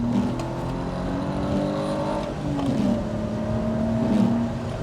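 A BMW E46 330ci coupe's six-cylinder engine hums steadily while driving, a smooth mid-pitched drone that shifts slightly in pitch with throttle, heard from inside the car with road noise beneath.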